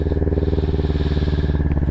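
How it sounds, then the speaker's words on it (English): A Sinnis Terrain 380 motorcycle engine runs close and loud, with a steady, rapid pulsing throb at a fast idle throughout. "Start the engine."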